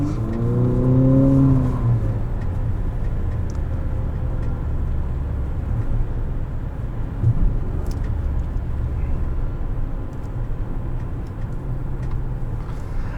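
A turbocharged 2020 Infiniti QX50 Edition 30 accelerating, with a steady low engine drone and whirring rising under strong boost, heard from inside the cabin without speech.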